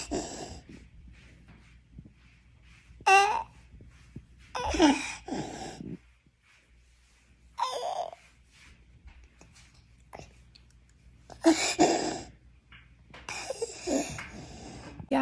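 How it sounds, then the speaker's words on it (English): A young child's croupy, barking cough, heard as several harsh bursts separated by wheezy, snorting breaths and quiet pauses, close and loud. "His cough was so croupy. It sounded like an RSV cough."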